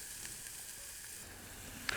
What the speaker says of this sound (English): So then we add those into our pan and just get them frying.